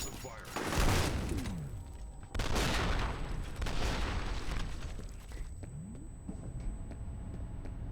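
Suppressive gunfire in F.E.A.R. Perseus Mandate, sustained bursts of automatic weapon fire with booming impacts, loud and dense, with a brief gap before a second long volley.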